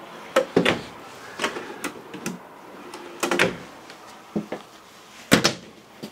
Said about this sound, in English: Pull out slide tray here.